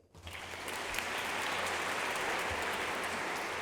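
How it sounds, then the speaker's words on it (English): Audience applause at a first-year convocation for the class of 2027, a broad steady wash of many hands clapping that swells in within the first half-second and holds full and dense to the end, with no talk over it. "Let's give them a round of applause."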